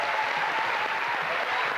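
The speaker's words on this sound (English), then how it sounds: "a big cheer for our runner-up, Attila Brasi from Romania." A game show studio audience applauding the runner-up, a dense steady patter of clapping hands that holds at an even level throughout, with faint voices underneath.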